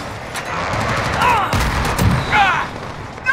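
Precision airstrike in Call of Duty: Modern Warfare (2019), hardcore team deathmatch on the Atlas Superstore map: bursts of gunfire and heavy explosive booms over a steady noisy rumble, with a couple of whistling streaks, loud and close.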